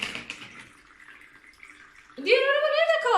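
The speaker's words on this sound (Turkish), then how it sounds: "Su çok güzel akıyor." Water pours down a Hot Wheels toy race track set in a steady splashing rush, loudest in the final second, with children's voices talking over it.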